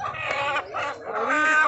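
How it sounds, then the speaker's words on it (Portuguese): A chicken clucks and squawks in several drawn-out calls close by at a rural swap market in Camocim de São Félix, Pernambuco. "Olha a galinha."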